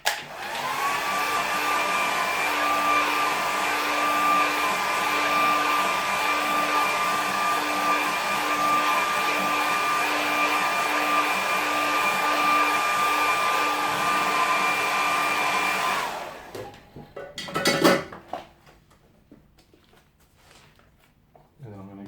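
A hair dryer blows steadily on wet watercolour paint for about sixteen seconds, loud and close with a constant whine, then clicks off, followed by a brief clatter and quiet room sound.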